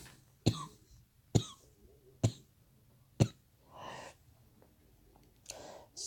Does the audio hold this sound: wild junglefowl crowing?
no